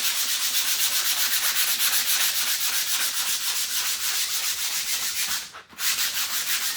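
Rhythmic, rapid rasping of sandpaper rubbed back and forth over a canvas, loud and close, with a brief pause near the end before resuming.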